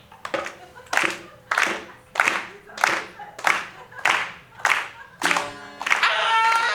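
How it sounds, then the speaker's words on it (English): A comedy club audience claps along in unison to a small guitar, eight or nine evenly spaced group claps building in rhythm, then breaking into a burst of sustained applause and cheers at the end. "I need you guys to start clapping along"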